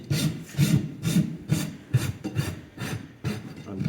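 A farrier's rasp filing the flare off a horse's hoof, about nine rhythmic rough strokes, each a loud close scraping rasp, with no voices.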